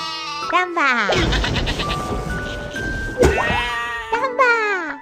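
Cartoon sheep bleating in a children's animal song, several wavering baas close up over a bright tune with jingling accompaniment.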